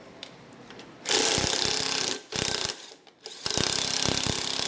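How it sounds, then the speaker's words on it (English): Ratchet strokes while a tool cleans rust from bolt threads on a Toyota 3UR-FE V8 Tundra engine, heard as close, loud bursts of rapid clicking separated by short pauses. "And this isn't re-threading, we're cleaning the rust off the threads."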